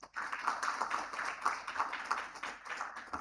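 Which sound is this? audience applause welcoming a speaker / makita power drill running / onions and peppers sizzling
audience applause welcoming a speaker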